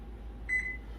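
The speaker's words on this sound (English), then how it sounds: "the timer just went off" A single short electronic timer beep, a clear high tone lasting about a quarter second, sounds close and alone against a quiet room hum.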